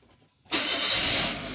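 A used car's engine cranks and catches after a moment of quiet, then settles into a steady, loud, close idle with no talking.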